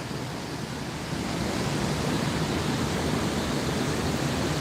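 Floodwater from Tempe Town Lake spilling over rushes as a steady, dense roar of broadband noise, close and constant, growing slightly louder after the first second with no voices.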